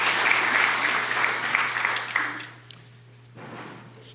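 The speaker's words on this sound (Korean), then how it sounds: "우리 오늘 입교인이 된 이 세 분을 우리 박수로 환영하시도록 하겠습니다" An Easter Sunday church congregation claps to welcome three new members, a full burst of applause that fades out after a couple of seconds, leaving a low steady hum and a few light knocks.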